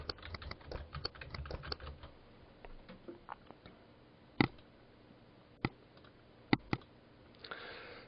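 Quiet typing on a computer keyboard while filling out a web form, a quick flurry of soft key clicks followed by a few isolated, sharper taps spaced out, close and fairly faint.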